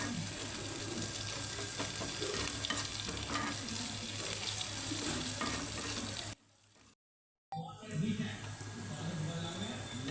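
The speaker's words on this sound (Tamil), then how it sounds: "வெங்காயம் நல்லா செவக்கணும்." Onions sizzle and fry in hot oil for a mutton kulambu, a dense steady crackle with occasional stirring scrapes. Someone talks over it, and the sound cuts out briefly near the end before resuming.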